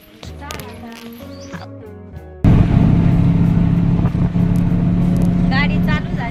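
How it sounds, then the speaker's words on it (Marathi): A car engine for a trip to Surat abruptly starts and settles into a loud, steady running drone, with people talking nearby before and during it. "गाडी चालू झाली आता आहे ना सुरतला जायला"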